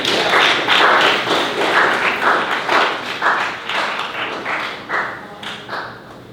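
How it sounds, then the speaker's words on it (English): A crowd applauds for lab leaders at a lecture event, steady dense clapping that stays loud and gradually thins toward the end, with no talk over it. "Can we do a round of applause not only for your lab leaders that are debating, but the ones that got you down here?"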